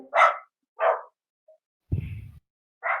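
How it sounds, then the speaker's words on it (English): Dogs bark indoors during a home tabletop role-playing session: several sharp, fairly loud barking bursts with short silences between them, then a lower rough growl-like bark, with no talk over them. "Sorry about the dogs."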